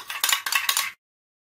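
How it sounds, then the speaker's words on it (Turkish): Egg yolk and yogurt whisked in a bowl, a quick run of clinking, scraping strokes of a utensil against the dish lasting under a second, close and alone. "Çırpıp üstüne süreceğiz."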